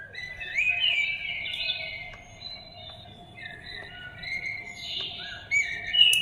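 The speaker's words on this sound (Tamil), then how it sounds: "இதுதான் குருவி கத்துறது." Sparrow chirping from the nature-sound setting of an automatic baby swing chair: quick bright tweets and trills repeating in bursts over a low steady hum, moderately loud and close, no talking.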